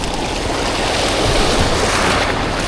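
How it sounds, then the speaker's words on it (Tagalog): Strong sea waves break at the shore at a handline fishing spot in Borongan City, Eastern Samar, making a loud continuous surf roar with some wind buffeting across the mic, and no voices. "Yung nga lang malakas yung alon dito."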